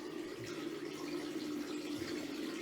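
Water runs steadily from a tap, a faint continuous rushing hiss in a quiet room with no voices.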